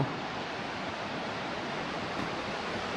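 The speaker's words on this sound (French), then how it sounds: "je vous confirme bien que la cascade c'est une cascade éphémère" Ephemeral waterfall in the Vésubie valley on a rainy day gives a steady, even rushing roar that fills the whole moment, with no voices and no breaks.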